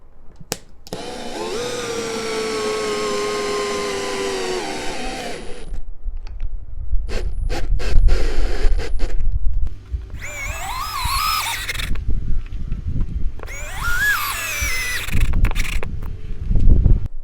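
A power drill whirs in three separate bursts driving 3-inch screws into a door frame, its motor pitch rising and dipping as it drives in, with clunks and handling noise between runs.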